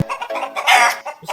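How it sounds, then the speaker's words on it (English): A chicken clucks in short, close bursts, with one louder drawn-out crowing squawk in the middle, all brief and sharp. "Was that chicken?"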